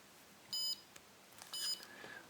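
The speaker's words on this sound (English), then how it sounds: "if I put these two wires together, which is going to be an on-off switch, it should start the alarm off." Homemade Arduino Nano garage burglar alarm beeping, two short, clear electronic beeps about a second apart over quiet background hiss.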